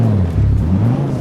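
A car engine in GTA drones steadily with a wavering mid-pitched hum, close and loud throughout, no voices.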